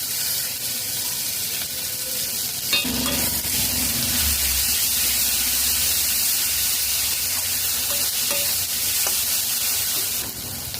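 Masala fries in ghee with a constant, fairly loud sizzle, and a few stirring scrapes and clicks of a utensil against the pan are heard close up; no voices.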